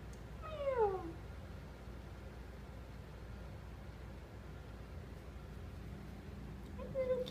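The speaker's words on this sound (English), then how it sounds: "Meow. Hi, little kitty." A cat in an outdoor kitty hutch meows once clearly with a falling, drawn-out cry, then again more faintly near the end, over a quiet steady hiss.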